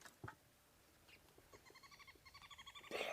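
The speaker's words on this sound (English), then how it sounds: "I can hear some other bird species around." Bird calls on an African safari at sunrise: a few faint chirps early, then a rapid series of repeated quavering notes building in loudness, ending in a burst of louder noise.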